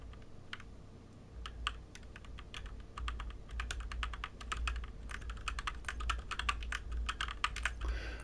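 Rapid, continuous typing on a computer keyboard at a gaming desk setup, with dense irregular key clicks running close and steady throughout, alone with no talk.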